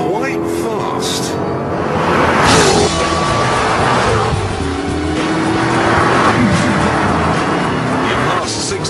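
Jaguar XKR accelerating hard on a test track, loud engine roar rising and falling with squealing tyres and rushing wind, while someone talks over it throughout.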